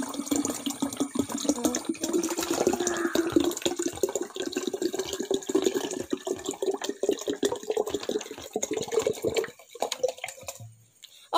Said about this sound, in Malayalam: മുഴുവൻ വെള്ളം ഒഴിക്കാൻ പോവുകയാണ്